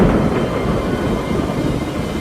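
Thunderstorm sound effect: a continuous deep rumble of thunder with a steady wash of heavy rain, loud and sustained, with no voices.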